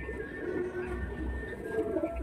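Soft, rolling pigeon coos repeat at close range as a male pigeon chases a female, over a low background rumble, with no talking.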